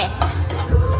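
Egg bhurji being stirred as it fries in a pan, a short burst of scraping and sizzle with a couple of utensil scrapes over steady frying noise.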